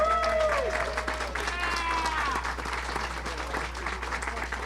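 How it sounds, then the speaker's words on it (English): Crowd applause at a Larimer County ribbon cutting in Loveland as elected officials are introduced, fairly close clapping that starts strong and tapers slightly, mixed with overlapping voices. "we will applaud you at the time"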